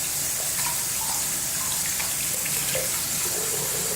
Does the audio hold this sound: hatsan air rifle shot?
no